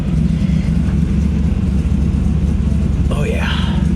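A car rumbles steadily while being driven, a loud, constant low engine drone with a brief higher squeal near the end; a voice talks over it.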